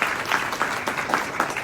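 An audience applauds at a panel event, a dense, fairly close patter of many hands clapping steadily and evenly throughout the short burst.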